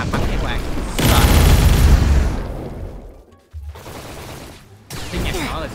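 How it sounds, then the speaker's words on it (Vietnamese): A video game monster firing rapid bullet bursts like a Gatling gun, a loud dense barrage with booming impacts that cuts out briefly and then resumes, under occasional talk from a player. "nhìn cái con quái nó bắn như nó cầm Gatlingen, nó xả đạn như nhìn sợ thật sự"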